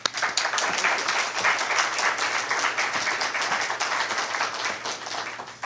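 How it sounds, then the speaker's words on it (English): Steady audience clapping at a meet-the-candidates event welcoming a Secretary of State candidate, dense and even at moderate loudness, continuing alone for several seconds. "You can keep clapping."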